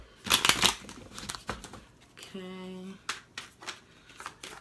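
Tarot and oracle cards shuffled by hand in brief crisp riffling bursts and soft papery slides, close and fairly quiet, with a short spoken word and a brief tonal hum partway through.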